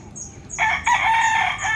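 A fighting rooster (bullstag) crows loudly and close, one strong crow with a brief break partway through.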